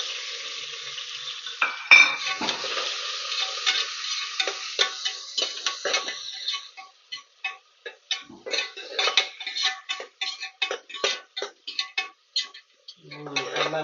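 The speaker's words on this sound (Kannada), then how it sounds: "ಇವಾಗ ಈರುಳ್ಳಿ ಹಾಕ್ತಾ ಇದೀನಿ." Onions frying in a pan for egg biryani, with a steady sizzle and repeated scraping stir strokes that turn into sharp, rhythmic clinks near the end; a voice speaks faintly at times.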